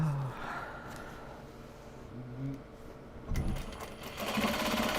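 A sewing machine stitches small box bags in short bursts, its whirring runs starting and stopping at close range, mixed with light handling clatter of fabric and parts.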